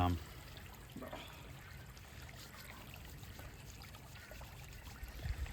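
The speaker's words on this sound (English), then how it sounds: "Just give it a bit of a wash." Water trickles and splashes steadily as a bronze piece is washed, a low continuous pour close by with a few louder splashes near the start and end.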